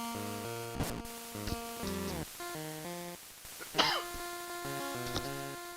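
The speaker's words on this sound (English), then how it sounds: "I tried to mute that before I sneezed and wasn't quick enough on the draw" A single sharp sneeze bursts out near the middle, standing clear above steady electronic video game music that plays throughout.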